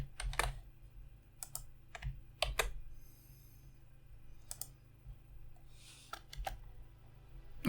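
Keystrokes on a computer keyboard while entering text for a blog post, arriving as scattered short bursts of crisp clicks with pauses between them, close up and quiet, with no voices.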